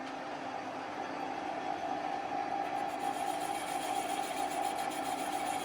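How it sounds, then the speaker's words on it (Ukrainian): A machine spindle hones a bore using a lap charged with diamond paste, giving a steady, even mechanical hum with a constant pitch that runs alone throughout. "Так, обкатався, включаємо шпиндель і поїхали."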